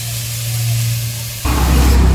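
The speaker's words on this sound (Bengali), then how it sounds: "শাক ভাজা একটু সর্ষের তেল দিয়ে দেবো" Greens fry in mustard oil in a pan, giving a loud, steady hissing sizzle that swells partway through.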